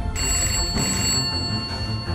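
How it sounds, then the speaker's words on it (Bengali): A telephone rings with a continuous electronic bell tone that sounds loud and close indoors, running throughout with no talk over it. "ফোন এসেছে"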